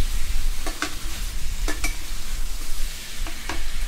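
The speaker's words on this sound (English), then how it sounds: "So we just keep stirring it up a little bit." Chicken and fried noodles for Pad See Ew sizzle in a hot pan as a utensil stirs and scrapes, with a steady frying hiss broken by several sharp scraping strokes in pairs, close up.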